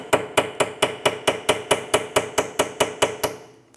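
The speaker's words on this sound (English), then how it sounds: "We're going to take a chisel and split the race." A hammer strikes a chisel to split a wheel bearing race on a 2003-2007 Honda Accord, a quick, steady run of about fifteen sharp metallic blows, close and evenly spaced, with no voices.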